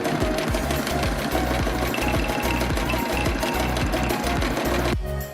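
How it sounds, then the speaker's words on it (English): A sewing machine stitches the backing material of a fabric face mask, its rapid, loud, steady mechanical chatter running continuously before stopping abruptly near the end. "sew down the sides of the backing from the top to the bottom"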